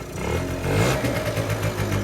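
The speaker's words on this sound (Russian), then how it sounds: "Мотор работает, но у него, короче, тяга пропадает, когда начинаешь ручку газа." A Motobi 50 scooter's small engine runs steadily nearby with a throaty, buzzing drone and slight rises in revs, suffering loss of power when the throttle opens; no voices.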